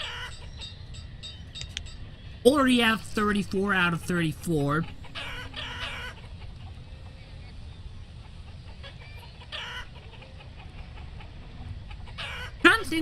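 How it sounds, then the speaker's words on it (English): Chickens cluck in the village-building game Banished, a burst of several calls in quick succession near the start, with fainter clucks later against a low game ambience and someone talking over it. "We got some chickens here."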